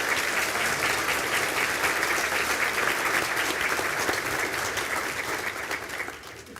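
Graduates standing at a Galway conferring ceremony receive a steady round of applause from the hall, full and continuous before easing off toward the end.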